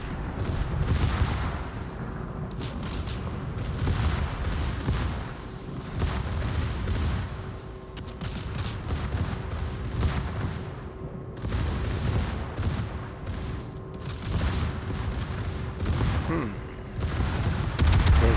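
Naval guns from warships fire repeatedly in a World of Warships-style naval battle game, with a Colorado battleship and an Omaha cruiser, as booming salvos and rumbling blasts over a steady engine drone, with a voice talking throughout.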